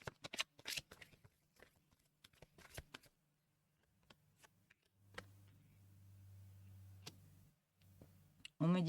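Tarot cards being shuffled by hand, with bursts of crisp riffling and tapping clicks, then a quieter stretch of rustling and handling under a low hum, close and fairly soft.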